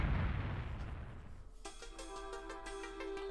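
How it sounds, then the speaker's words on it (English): A loud low rumbling explosion in the video game Suikogaiden Vol.2 opens the clip and dies away after about a second and a half, then steady tonal game music comes in. "We looked towards the sound of the explosion, saw a gigantic pillar of fire rising up of a central square."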